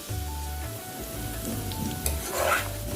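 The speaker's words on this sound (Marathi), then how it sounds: "बघा आपलं शिमला मिरची पण छान हे झाली आहे, फ्राय झाली आहे." Capsicum frying in a pan for paneer chilli gives a steady, close sizzle with occasional stirring scrapes and light clatter of the utensil against the pan.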